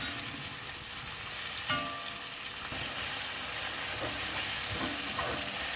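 Tomato sautéing in a pan for curry, a steady bright sizzle of frying with occasional stirring scrapes, close and continuous with no talk.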